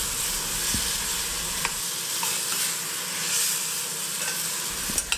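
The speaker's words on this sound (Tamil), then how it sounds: "அதையும் சேர்த்துட்டு ஒரு நிமிஷம் அந்த மசாலாலேயே நல்லா வதக்கி விட்டுக்கலாம்" Drumstick (murungaikkai) pieces are sautéed in masala in a pan, giving a steady sizzle with stirring and a few sharp scraping clicks, close and continuous, with no talking.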